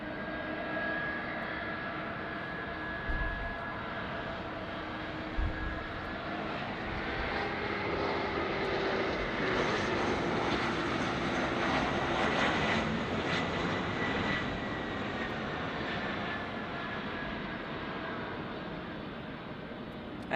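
Airliner departing LAX airport, a steady jet engine roar that swells gradually toward the middle and eases slightly, heard from a distance with a couple of soft thumps early on.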